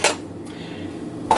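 Metal measuring spoons clink and rattle briefly as a teaspoon is pulled from the set, two short bright jingles at the start and end with quiet handling between.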